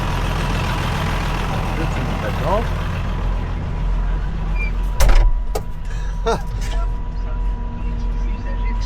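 A steady tractor engine rumbles continuously at close range, backfiring, with a few sharp clanks and knocks partway through.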